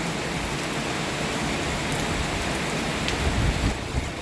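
Heavy storm rain pours steadily outside the town of Surin, Thailand, a dense continuous hiss of water with no pauses and no voices.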